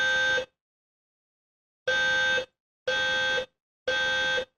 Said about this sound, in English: I got the fire alarm.